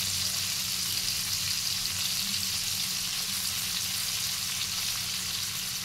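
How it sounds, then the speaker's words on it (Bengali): Chopped carrots and beans, salted, fry in hot oil for fried rice: a steady, even sizzle that continues throughout at close range, with no voices. "এগুলোকে ভালো করে ভেজে তুলে নেব।"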